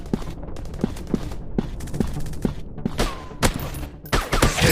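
Gunfire in a counter-terrorist first-person shooter game, a run of sharp evenly spaced shots followed by denser, louder bursts of firing near the end.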